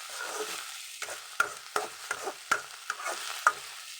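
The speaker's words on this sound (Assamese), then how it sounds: "ভাজি ল'ম ধুনীয়াকৈ।" A spatula stirs tomatoes frying in a pan for a meat curry cooked without turmeric, giving a steady soft sizzle broken by irregular sharp scraping knocks, close and alone.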